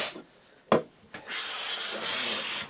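A Lie-Nielsen No 5 hand plane shaves wood in two quick rasping strokes, then one longer, smoother pass, close and fairly quiet.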